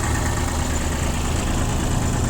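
An ISEKI TU165 tractor's three-cylinder diesel engine idles with a steady, dense rumble and mechanical clatter, close and constant with no talk.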